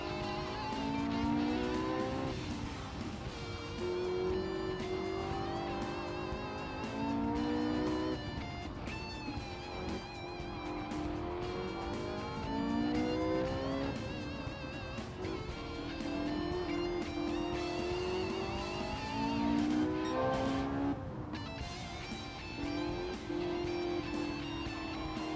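Porsche 918 Spyder racing engine in the video game Gran Turismo 7, revving hard through repeated gear changes with rising and falling pitch and occasional tire squeal, loud and continuous.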